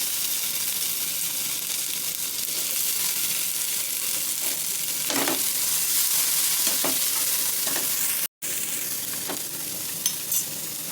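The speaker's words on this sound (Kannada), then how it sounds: "ಈರುಳ್ಳಿ ಫ್ರೈ ಆದಮೇಲೆ ಟೊಮೊಟೊ ಆ್ಯಡ್ ಮಾಡ್ಕೊತಿದ್ದೀನಿ." Onion and tomato frying in oil with continuous close sizzling, broken by stirring scrapes and a few spatula knocks against the pan, fairly loud with a brief dropout near the end, no voices.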